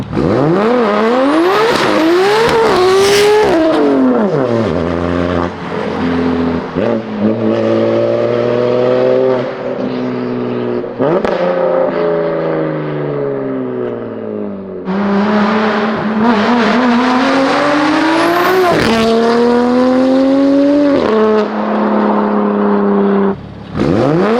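A 900HP built-motor BMW M4 revs hard and loud up close, climbing and dropping through gears in long sweeping pulls, with tire squeal cutting in and a brief dip between bursts; no talking.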